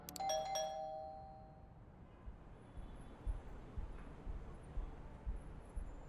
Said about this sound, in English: You reflect as you ring the doorbell of the occult bookstore that serves as Agathon's haven.